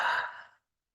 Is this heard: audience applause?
no